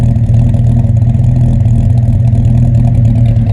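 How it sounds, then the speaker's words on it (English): A Chrysler Valiant Regal (Dodge Dart) engine idling loudly through a stainless exhaust, a deep steady throbbing burble with a slight rhythmic pulse, very close. "The stainless exhaust I just showed you also sounds absolutely fantastic"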